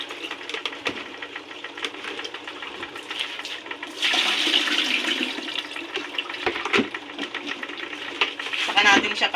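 Running water pours over crabs being rinsed clean, a steady splashing gush with occasional clatter, growing louder partway through, with a voice speaking briefly amid it.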